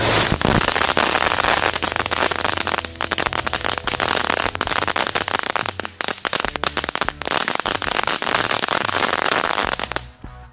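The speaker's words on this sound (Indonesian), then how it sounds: "Sekarang kita sumpet dulu mercon Cassandra Magica." A string of Magical Cassandra firecrackers bursting in a dense, loud chain of sharp cracks and pops, sustained for around ten seconds with brief dips before cutting off.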